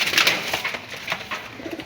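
A Mysore pigeon coos briefly up close, a soft burbling call heard over the bustle of an outdoor pigeon market.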